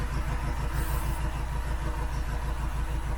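Mk3 Ford Cortina engine idles steadily with a low, even rhythmic thrum during a cylinder drop test, heard close and alone at moderate volume.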